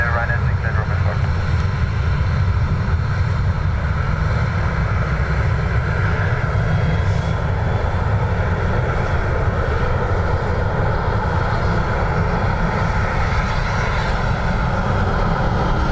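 Ryanair airliner taking off from runway 10 right at Dublin Airport, a loud, steady jet engine roar with low rumble sustained throughout, under distant radio chatter.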